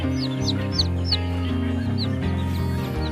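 Newborn baby chicks chirp in a cardboard box, repeated high rising peeps close up, a few at a time over a steady low hum.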